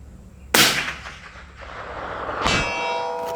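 A rifle shot in 400 Legend followed by the bullet striking a steel target 400 yards away, heard as a sharp crack and then a ringing metallic clang about two seconds later.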